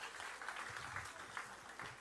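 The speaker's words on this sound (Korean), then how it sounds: "계속 박수해 주시기 바랍니다." Steady applause from a church congregation at a 40th-anniversary thanksgiving service, a dense, sustained clapping that fills the room evenly without pause.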